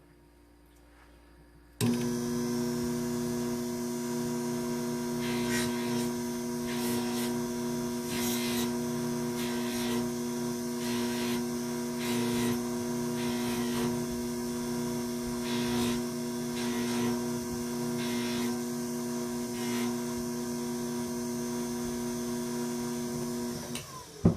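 A buffing wheel hums steadily while a part from a vintage Haste watch is smoothed on it, with repeated brief scraping bursts each time the piece touches the wheel. The sound is fairly quiet and has no speech.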